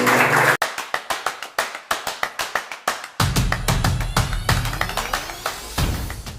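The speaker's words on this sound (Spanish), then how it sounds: "Den un aplauso fuerte al Espíritu de Dios." Rhythmic group clapping at a church service in a steady beat, loud and close, then continuing as music with a bass line comes in underneath.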